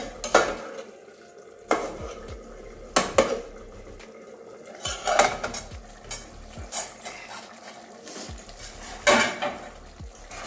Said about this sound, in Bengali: বন্ধুরা আবারও 2-3 মিনিট পরে ঢাকনাটা খুলে নিচ্ছি।